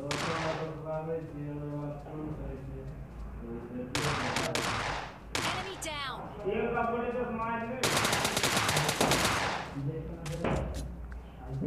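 Video game gunfire during a fight with two shotgun-wielding enemies: loud bursts of rapid shots and sharp cracks in several clusters, mixed with game effects and a voice talking through parts of it.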